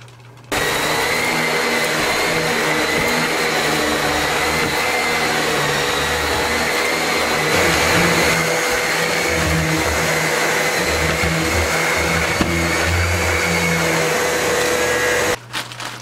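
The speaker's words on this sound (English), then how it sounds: "I got a vacuum in here" A vacuum cleaner runs steadily while a fishing tent is cleaned up for packing, giving a loud, continuous whirring drone for about fifteen seconds that starts and stops abruptly.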